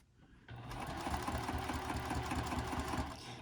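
A sewing machine stitches a wristlet clutch with a pocket, starting after a brief pause and then running in a steady, rapid mechanical whir at close range.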